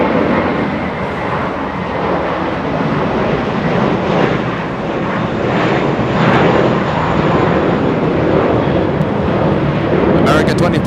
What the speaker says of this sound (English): American Airlines, a little A321 lifting off